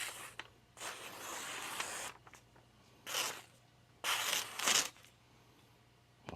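Kawatsu 165mm Japanese santoku, freshly sharpened on an 800-grit resin-bonded diamond stone, slicing a paper towel in several separate soft, crisp rasping strokes close up, with quiet pauses between cuts.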